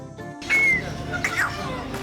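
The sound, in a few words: expensive pet bird whistling at pet market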